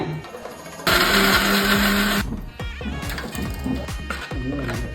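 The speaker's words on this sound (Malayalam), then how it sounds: "ഇതെല്ലാം കൂടിയിട്ട് അരയ്ക്കാൻ പോവാണേ." A mixer grinder blends a chilli masala with Kashmiri chilli powder for butter chicken in a loud, dense whirring burst of about a second and a half, then cuts off, leaving clattering kitchen knocks and handling sounds.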